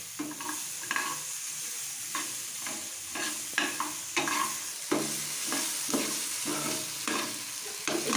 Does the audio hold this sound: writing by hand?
no